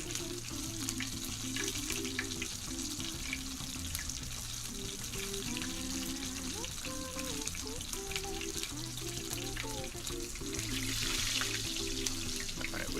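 Chicken thighs with the skin on fry in a pan, giving a steady, moderate sizzle that runs the whole time under a faint background hum.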